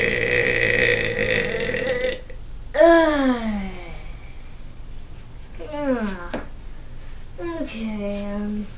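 Loud burps erupt three times, each a drawn-out croaking belch with gaps between, following a brief stretch of background noise.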